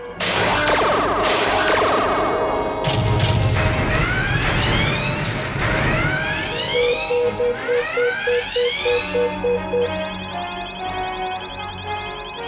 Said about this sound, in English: Captain, the Azrael is firing photon torpedoes.